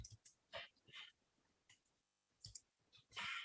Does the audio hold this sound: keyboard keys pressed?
yes